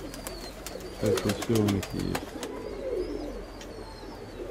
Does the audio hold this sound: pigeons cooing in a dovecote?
yes